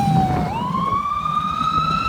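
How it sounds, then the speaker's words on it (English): A fire engine siren sweeps past, its steady wail dropping in pitch as the truck goes by, loud and close with traffic rumble underneath. "the pitch of that siren is higher as it approaches, and as it like leaves you, it just drops down a little"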